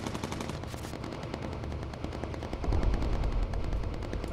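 Rapid machine-gun fire from bomber gunners in the World War II flight game Bomber Crew, USAAF campaign, a dense continuous rattle that grows heavier and louder partway through, with no voices.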